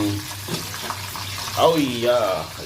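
Three salted and peppered chicken pieces fry in a pan with a wet, bubbling sizzle, while a voice talks over the cooking throughout.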